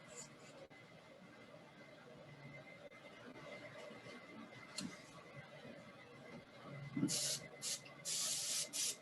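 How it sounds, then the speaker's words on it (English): Aerosol paint sprayed past the edge of a paper stencil at a woodturning demonstration, several bright hissing bursts near the end after a quiet stretch. "See, that's why you spray off the side."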